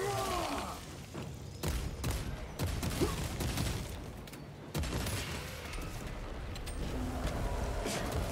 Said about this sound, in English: Guys shooting me in the back.